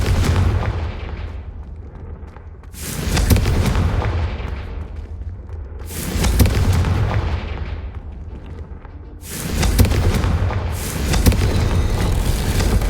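Confringo fire spell blasts in the Hogwarts Legacy video game, three loud booming explosions about three seconds apart. Each blast rises with a roaring whoosh and leaves a rumbling tail.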